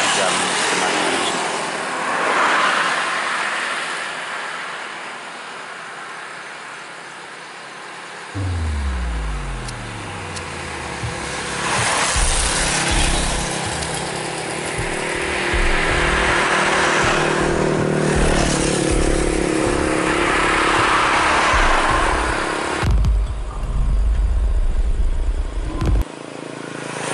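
Road traffic at dusk near a streetlight, with cars and motorcycles approaching and passing, engines rising and falling over a steady background roar and several distinct drive-bys.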